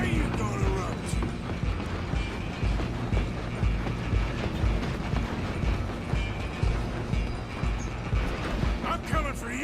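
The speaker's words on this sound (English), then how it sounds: "I'm gonna ride ahead and stop the train" A steam train in Red Dead Redemption 2 gives a steady, dense rumble of creaking, clattering carriages and running gear, continuous and close, while voices shout over it.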